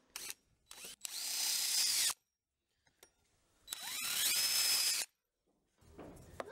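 A power drill fitted with a 3/4-inch spade bit and a Forstner bit bores into wood for a miniature Dutch wooden shoe, in two loud whirring bursts of a couple of seconds each between short clicks and pauses, close up.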